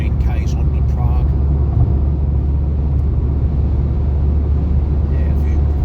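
Steady loud road rumble from inside a car cruising on a Czech motorway (autočesta) toward Prague among a few trucks, a continuous low drone with constant tyre and engine noise throughout.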